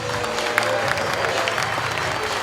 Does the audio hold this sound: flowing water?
no